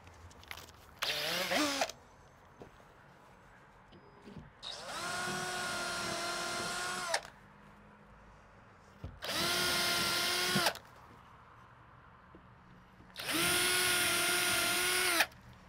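Power drill fastening the last wooden strip onto a board door for a shed, three long whirring runs and one short one, each winding down with a falling pitch, with quiet gaps between them.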